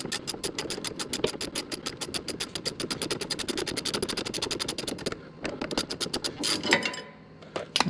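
A ratchet wrench clicks rapidly and steadily while removing the nut from a sway bar end link on a Tesla Model 3 Performance, followed by a pause, then scattered metallic clanks and scrapes close by.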